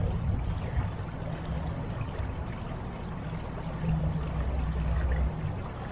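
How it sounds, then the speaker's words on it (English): Water pours steadily from a garden hose at a park and nature preserve, a continuous splashing, gushing stream heard up close with no talking. "Water hose."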